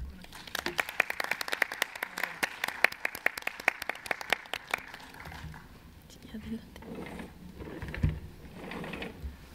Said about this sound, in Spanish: quiero eh, que le ofrecemos un aplauso a nuestros panelistas